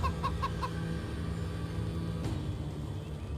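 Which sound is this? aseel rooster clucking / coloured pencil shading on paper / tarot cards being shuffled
aseel rooster clucking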